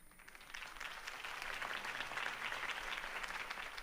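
Crowd applause at a campaign speech in a Batman video game, a steady dense clapping that swells after the first half second and holds loud and even throughout, with no talk over it.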